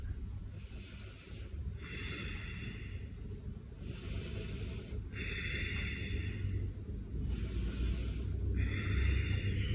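Slow, deep breaths during a home yoga session, a run of long airy inhales and exhales repeating every couple of seconds over steady background hiss.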